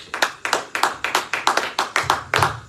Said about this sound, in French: Nous pouvons nous asseoir en acclamant pour la parole du Seigneur.